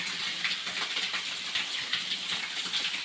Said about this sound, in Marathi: आणि पाण्याची झीर कशी ते पण दाखवा